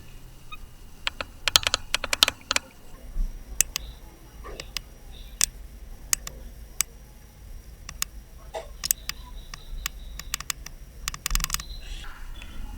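Keys clatter on a computer keyboard in uneven bursts of close, crisp taps over a quiet room hum.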